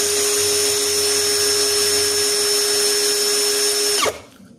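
A Dopard 16V brushless impact drill runs steadily at speed 1, giving a loud, constant high whine with no talk, then cuts off abruptly near the end and winds down quickly.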